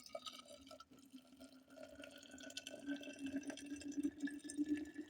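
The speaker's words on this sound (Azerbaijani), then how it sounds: "Suyu da qaynar əlavə eləyirik." Boiling water is poured from a kettle to fill a tea pot for brewing, a soft steady trickle rising in pitch as the vessel fills, faint and close with no talk.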